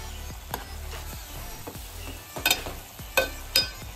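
Creek fish for a spicy, tangy coconut-based Malvani curry sizzles gently in a pan while being stirred and turned, with soft scrapes and several sharper clinks of a utensil near the end.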